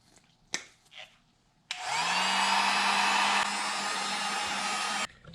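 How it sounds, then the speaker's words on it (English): A heat gun switches on and blows steadily close by for about three seconds while heat-shrink tubing shrinks over wiring on a Gen2 Hayabusa, then cuts off; a few soft clicks and handling noises come before it. "You can use tape to isolate those wires, but I'm gonna go with a heat shrink method."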